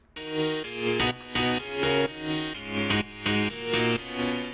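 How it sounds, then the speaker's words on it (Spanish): Synthesized piano chords played in a steady progression, each chord struck and held briefly before the next, bright and clear with no voices. "con él hago esta progresión de acorde de piano"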